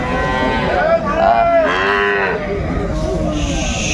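Sahiwal cows and calves at the Aftabganj weekly cattle market in Dinajpur give loud, drawn-out moos close by, one long call after another over steady crowd noise.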